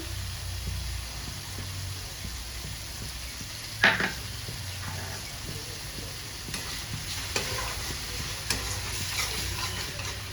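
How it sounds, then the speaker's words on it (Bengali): Chicken masala with yogurt stirred in a frying pan, a steady low sizzle with soft scraping of the spoon against the pan and one sharper clink midway. "ভালো করে নাড়িয়ে ছাড়িয়ে নেব।"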